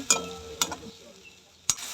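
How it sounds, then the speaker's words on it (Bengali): Spice paste cooks with fried onion and tomato in a pan, giving a low steady sizzle broken by a few sharp scrapes and clinks of a spoon stirring against the metal. "মশলাটা সুন্দর করে কষা করে ভাজা হবে এইভাবে একটু ভেজে নেব"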